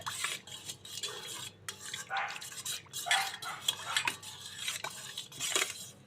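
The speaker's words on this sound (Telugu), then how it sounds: "మిరియాల పొడి ఒక 1/4 టీ స్పూన్ వేసి కలుపుకుంటున్నానండి" Pepper powder stirred into pani puri water with a spoon, producing continuous scraping and clinking of metal against a vessel, steady and close, with no talking.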